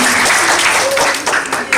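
Audience applauding at a school ceremony honouring top-ranked students in Temara, a dense steady patter of clapping filling the room throughout, with a voice speaking faintly underneath.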